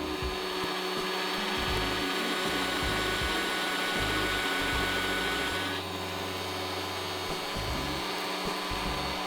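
A Bosch PBD 40 bench drill press runs at low speed with a steady whirring motor hum, close and continuous, its tone shifting slightly partway through.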